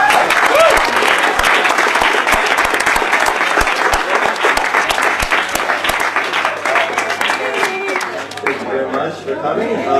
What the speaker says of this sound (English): I just want to have a nice round of applause